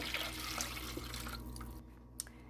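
Water pours in a steady splashing stream into a food processor, then stops, and a few faint drips follow.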